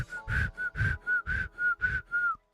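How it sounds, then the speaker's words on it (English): A person attempts to whistle, producing seven short breathy whistled notes in a steady rhythm, each airy and wavering, alone with no talk. "Try to whistle, but do it wrong."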